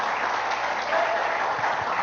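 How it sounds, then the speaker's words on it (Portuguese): A congregation at an OBPC evangelical church service in Avaré claps together, a steady, even wash of applause throughout. "Vamos aplaudir ao Senhor."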